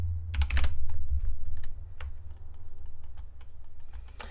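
Rapid clicking keystrokes on a computer keyboard, close and crisp, in quick bursts with short pauses over a low steady background hum.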